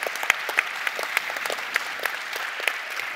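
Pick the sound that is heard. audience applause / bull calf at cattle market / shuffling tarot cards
audience applause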